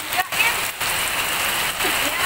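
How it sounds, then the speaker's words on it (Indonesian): Rain falls steadily as a broad, continuous hiss through a kitchen where food is being cooked for breaking the fast, with brief dips, and voices talk over it. "Mau pulang malah hujan"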